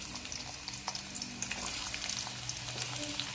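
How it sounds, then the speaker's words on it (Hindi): Chopped onions sizzle and crackle as they fry in hot oil in a kadai, a steady close frying hiss with small pops scattered throughout and no talking. "तेल गरम हो गया है, इसमें डालेंगे प्याज"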